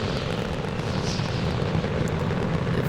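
Aircraft engine throttling up in Stormworks, a steady loud broadband roar with a rumbling low end, continuous and close throughout with no speech.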